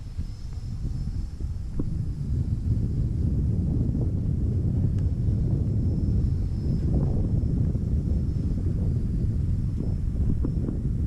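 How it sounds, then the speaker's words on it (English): Strong, steady wind roars and buffets the microphone outdoors while an RC EDF jet, an Arrows RC Marlin, is flown. The wind stays loud and continuous, with faint hum beneath it. "that wind is really messing with her"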